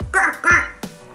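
A duck-bill toy whistle held in the mouth gives two loud nasal quacks close up, followed by a shorter third blast.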